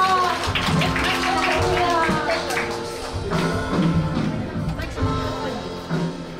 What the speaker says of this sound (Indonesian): Kita tepuk tangan sekali lagi dong buat Tuhan Allah kita